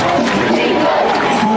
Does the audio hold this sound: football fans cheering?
yes